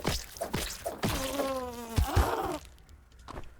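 Buzzing of a bee in the video game Grounded, a droning harmonic whine that rises and holds for about a second and a half, mixed with game thuds and brief effects.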